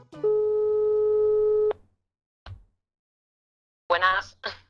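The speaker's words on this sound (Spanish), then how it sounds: "Vamos a llamarla a ver si coge el teléfono." A telephone call tone holds one steady electronic beep for about a second and a half, then goes quiet. A short thump follows, and a voice answers near the end.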